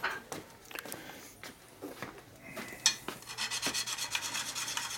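Sharpening stone with lubricant rasping along the edges of a new full floating front disc brake rotor for a 1988 Harley-Davidson FXR, set up on a mill; repeated close rubbing strokes grow steadier and louder toward the end.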